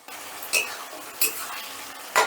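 A paste of ginger, garlic and green chili sizzles softly in a pan over medium gas heat, with three sharp scrapes of a utensil stirring it at roughly even intervals.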